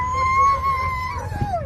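A sled dog howls in its kennel at the Fur Rondy Open World Championship sled dog race, one loud, close, drawn-out wavering howl that slowly falls in pitch.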